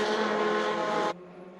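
Mini Cooper race cars, including the more powerful R53s, roar past at the Scottish Mini Cooper Cup, with a loud sustained engine blare that cuts off abruptly and leaves a quieter engine drone.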